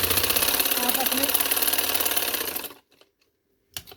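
Sewing machine running a steady rapid stitching rattle along a round garment neckline, then stopping abruptly near the end, followed by a short click.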